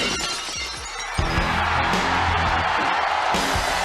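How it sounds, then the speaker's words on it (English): A sharp crash of shattering glass marks the start of Stone Cold Steve Austin's wrestling entrance and is followed by a loud, sustained arena crowd roar. "As soon as the glass broke, you knew it was about to go down."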